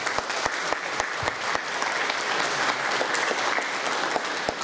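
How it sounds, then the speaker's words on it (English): An audience at a university koto recital applauds, a dense steady clapping from many hands that fills the room without a break, fairly loud and close. "So I think she deserves a big round of applause just for keeping this going for so long."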